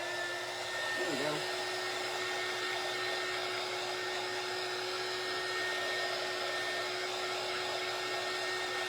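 A hair dryer blows steadily to dry glue on a craft project, giving a constant, close whooshing hum with a faint tonal whine, and a voice briefly comes in near the start.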